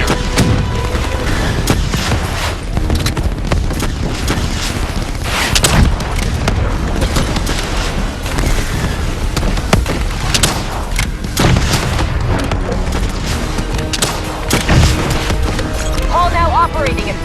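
Heavy gunfire and booming explosions hammer away nonstop during the battle against the Manticore in Black Ops 3, loud and dense. Voices shout orders over the din.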